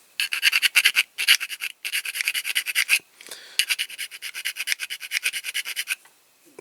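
A hand file rasps across metal in quick rhythmic strokes while restoring a Corgi Major Ford car transporter toy, several bursts of a dozen or so passes separated by short pauses, close and scratchy.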